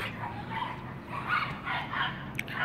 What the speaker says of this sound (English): With the lovely chirping of the dogs that never seems to stop.